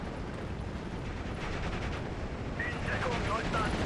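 Gunfire and explosions in the WWII strategy game Steel Division: Normandy 44, a dense, steady roar of battle with continuous rumbling shots and blasts throughout.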